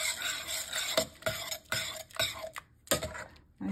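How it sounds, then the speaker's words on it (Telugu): A spoon stirs through cooked gangavailu dal in a pot, making a run of wet clinks and scrapes against the metal at a steady rhythm. The strokes are close and moderately loud, with a short pause near the end. "స్పూన్తో కలుపుకున్నాను."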